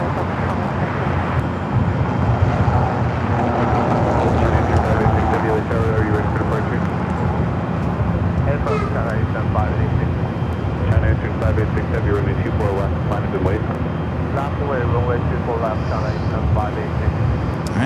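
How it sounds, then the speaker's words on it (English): China Eastern Boeing 777 airliner taking off at LAX, a steady loud engine roar sustained throughout, heard at a distance with some traffic-like background noise. "Takeoff is China Eastern."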